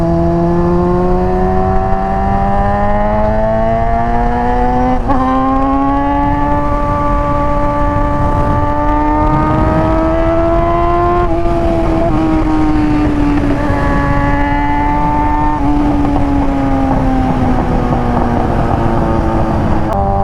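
A sport bike runs on an open road with a loud, continuous engine drone. Its pitch rises and falls smoothly as it shifts and cruises, under steady wind rush.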